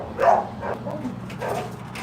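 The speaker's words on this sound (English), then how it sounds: "my dogs are barking" Several dogs bark close by in a short burst of overlapping barks and whimpers, fairly loud against a low background rumble.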